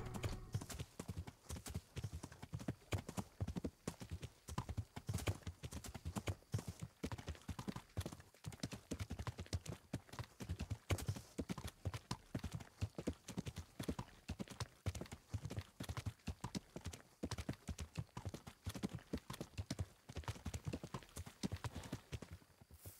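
Horse hooves gallop in the medieval video game Kingdom Come: Deliverance, a fast, steady, close clip-clop rhythm running the whole time, with occasional voices talking underneath.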